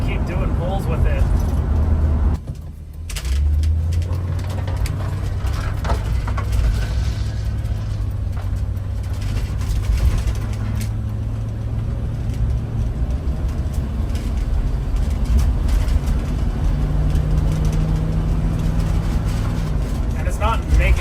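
A bus pulling away in first gear after a transmission-fix additive, with a low, rumbling engine drone that runs steadily throughout, briefly cutting out near the start, with voices underneath.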